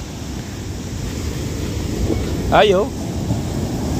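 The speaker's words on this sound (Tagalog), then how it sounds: "grabe, ang dagat, ang lalaki ng alon ngayon" Large sea waves crash on a shore, a steady close roar with wind buffeting the microphone. A person briefly exclaims over it.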